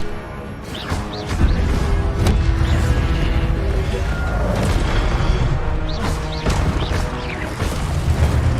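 A fire spell cast in Hogwarts Legacy on PS5 erupts in repeated whooshing, crackling bursts and impacts, continuous and fairly loud over several seconds, with a recurring rhythm of casts among other spell effects.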